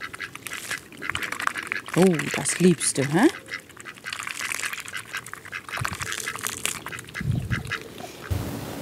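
Pet ducks quack in a garden in a few short bursts near the middle, while a person talks to them over rustling outdoor background.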